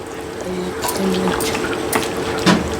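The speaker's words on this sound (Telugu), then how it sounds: "కొంచెం వాటర్ వేసుకొని కుక్కర్ పెట్టేద్దాం" Water is poured into a pressure cooker holding mutton curry, a steady soft splashing and trickling with a few brief clinks, close and continuous.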